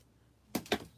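Scissors cut paper for a Halloween mini envelope in two quick, crisp snips close by, against a quiet background.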